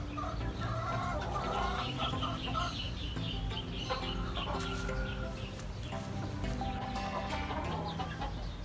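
A young sweater gamefowl hen, about six months old and already laying small eggs, clucks repeatedly and close by against a steady farmyard background with other fowl audible.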